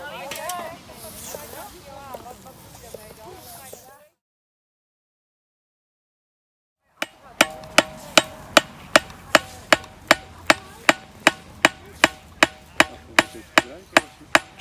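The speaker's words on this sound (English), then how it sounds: "Traditional peening on an anvil and then peening on a dangle." Scythe blade peened with a hammer on an anvil: a long run of evenly spaced, sharp metallic strikes, loud and close, after a stretch of outdoor noise and a silent gap.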